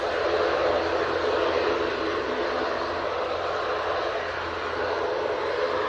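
A Ryanair airliner rolls down the runway at Manchester Airport on takeoff, a steady broad jet roar heard from a distance that holds constant throughout.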